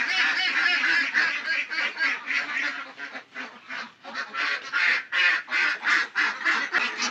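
Ducks raised on a farm, ninety-day-old birds grown from ducklings, quack loudly and continuously close by, a dense overlapping chorus of rhythmic honking calls with no one talking.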